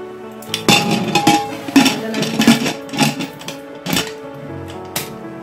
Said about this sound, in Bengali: প্রেসার কুকার ওভেনে বসিয়ে দিয়েছি।